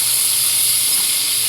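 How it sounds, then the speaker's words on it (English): Minced garlic dropped into piping hot pork fat, a loud, dense, steady sizzling hiss close up with no other sounds. "We're gonna put in about about a teaspoon of minced garlic."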